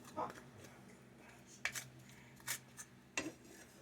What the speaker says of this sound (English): I'm going to give it another quick stir. Just to mix it all up.